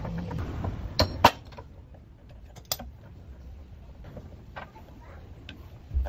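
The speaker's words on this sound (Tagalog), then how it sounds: "itong adjustable wrench ang gagamitin ko" An adjustable wrench works on the rack end of a Mitsubishi Mirage with the lower arm removed, giving a few sharp, close metallic clinks and ticks over a quiet, low background.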